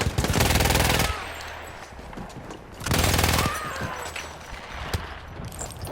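Two loud bursts of rapid machine gun fire in the World War I game Battlefield 1, each about a second long and separated by a pause, followed by scattered distant shots and battlefield clatter.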